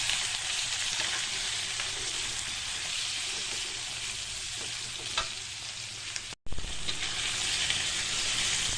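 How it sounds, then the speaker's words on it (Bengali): Fish frying lightly with turmeric in a pan: a loud, continuous close-up sizzle that cuts out briefly once before resuming. "হলুদ দিয়ে দেবো মাছটা হালকা করে একটু ভেজে নেব"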